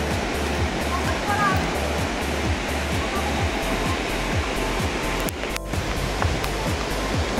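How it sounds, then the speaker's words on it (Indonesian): The Dolo waterfall on the slopes of Mount Wilis near Kediri rushes in a steady, broad roar that holds constant throughout. A short burst of handling noise cuts in partway through. "hijau dan gemericik air terjun sudah terdengar dari sini"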